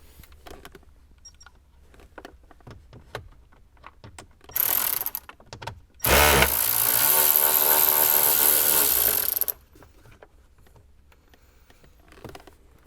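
A power tool backs out a 7mm bolt behind the glove box of a 2021-or-later Ford Bronco, two loud close whirring bursts, one brief and one lasting about three seconds, set between faint handling clicks and knocks.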